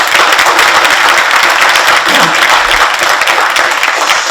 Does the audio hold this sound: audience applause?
yes